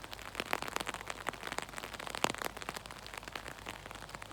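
Rain comes down at a park in Scotland, with drops pattering and crackling close by in an irregular, busy rhythm over a soft background hiss.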